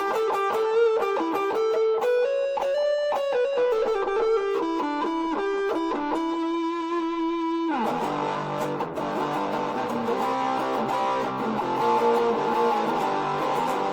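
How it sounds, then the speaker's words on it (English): An electric guitar through a Marshall MS-2R mini stack amplifier with a shimmering chorus effect plays clear melodic notes, then shifts into thicker, gritty chords. "if we add a little bit of chorus to it"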